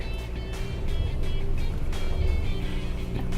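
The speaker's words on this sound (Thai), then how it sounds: "ถ้าท่านผู้ชมได้ยินเสียงนะจะมีเสียงแบบล้อปั่นฟรีอยู่นะครับ" A steady, loud roar of a 2023 Mitsubishi Xpander Cross engine climbing a mountain road, with whirring, slipping wheelspin noise as traction control intervenes, continuous throughout with no talking.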